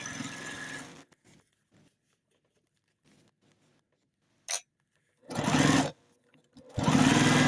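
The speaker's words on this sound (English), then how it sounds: "I'm just going to sew along that first seam." A sewing machine stitches along the first seam of a hanging organizer with clear plastic pockets, running in two loud bursts with a short stitch before them and quiet pauses between.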